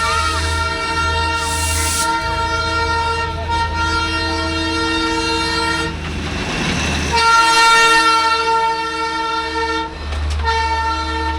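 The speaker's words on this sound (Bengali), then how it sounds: "দেখো আমার পেছনে সেই আইকনিক টয় ট্রেন, কিন্তু এটা ডিজেল ইঞ্জিনের টয় ট্রেন।" A loud diesel engine of the Darjeeling toy train drones steadily nearby, its tonal hum swelling as it passes, with a brief horn-like toot early on.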